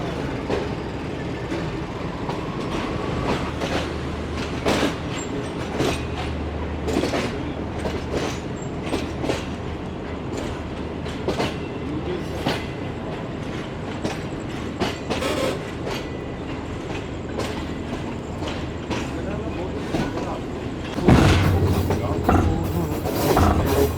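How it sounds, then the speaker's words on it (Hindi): The Shalimar Express rolls toward Lahore Junction, its carriages giving a steady rumble with repeated clickety-clack wheel knocks and a louder surge near the end, heard from inside the train. "लाहौर जंक्शन के प्लेटफॉर्म नंबर 4 या 2 की तरफ जा रही है ट्रेन इस वक्त हमारी"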